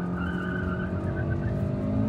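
A petrol Hyundai Creta launches from idle in first gear, its engine droning steadily close by with a rising harmonic whine and a faint squeal of spinning tyres, with no voices.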